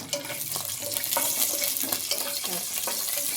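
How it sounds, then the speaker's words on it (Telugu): Cashews frying in hot ghee, giving a soft, steady sizzle with light stirring scrapes and clinks at close range, fairly quiet overall; no one speaks. "నెయ్యి బాగా వేడి అవుతుంటే కొంచెం జీడిపప్పు వేసుకుందాం"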